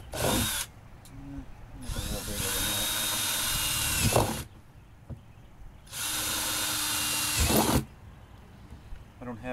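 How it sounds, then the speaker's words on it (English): A power drill whirs in two long bursts, drilling drainage holes in a plastic 55-gallon barrel, separated by pauses with faint handling noises, close by and loud. "So I'm just going to drill some holes in here so that this will be able to drain."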